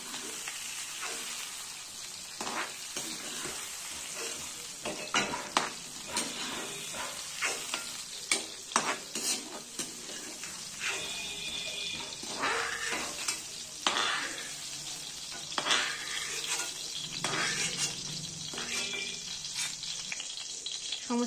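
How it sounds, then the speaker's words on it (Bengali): Mixed vegetables, including peas and beans, sizzling in hot oil in a pan while being stirred, with a steady frying hiss broken by frequent scraping and clinking strokes of a spatula, close and fairly loud throughout. "সমস্ত সবজিগুলো ফ্রাই হয়ে গেছে"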